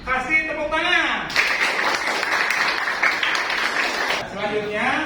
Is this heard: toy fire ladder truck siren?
no